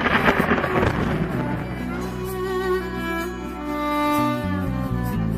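Thunder rumbling through a night storm with heavy rain, a broad continuous roar that swells and fades, with music-like tonal layers running underneath throughout.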